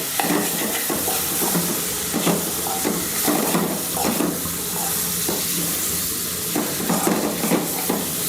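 Pieces of salted mango are stirred in spicy masala in a pan over a low flame for a Kerala mango milk curry, with soft scraping strokes and a gentle sizzle repeating at an irregular pace.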